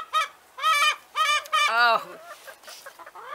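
A hen calls out in a loud run of harmonic, honking clucks in a backyard flock, several bursts in quick succession, with a person speaking briefly near the end.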